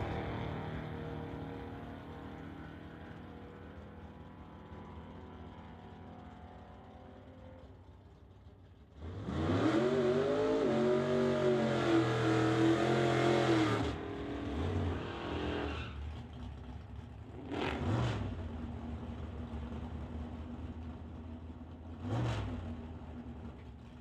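Drag racing cars, including the Old Yeller Ford, launching down the strip at Mission Raceway: a low rumble swells into a loud, rising engine roar for several seconds, then fades, followed by two shorter, fainter bursts of engine noise.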